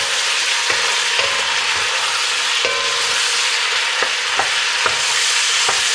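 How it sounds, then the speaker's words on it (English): Onion sweating in a hot frying pan, a continuous close sizzle with a spatula scraping and stirring at intervals, several distinct clicks against the pan. "just sweat the onion down a little bit"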